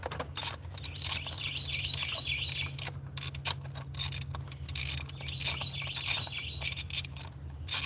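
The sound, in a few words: birds chirping in the background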